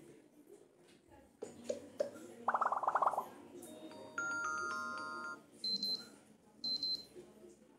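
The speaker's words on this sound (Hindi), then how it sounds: "ये भी अलार्म साउंड है" An electronic alarm tone on a Poco M3 Pro 5G phone plays a short melodic chime phrase, then two brief repeated beeping bursts, clear against a quiet background.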